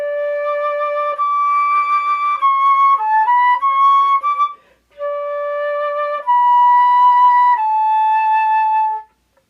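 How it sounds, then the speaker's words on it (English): A flute plays a short melody of held and quick notes, clear and close, with a brief pause midway and no voices. "So now I'm going to play a little bit of a song on the flute"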